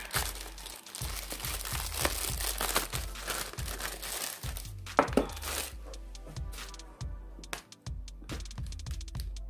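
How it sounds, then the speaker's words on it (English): Nail art foils are crinkled and handled close up, giving dense rustling and crackling with repeated soft thumps throughout and no talk. "the next one I have in foils. These are like newspaper."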